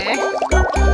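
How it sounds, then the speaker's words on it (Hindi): A cartoon donkey's stomach gurgles and rumbles, a short watery bubbling followed by two deep, booming grumbles in quick succession. "गधे, ये तेरे ही पेट में से आवाज आ रही है।"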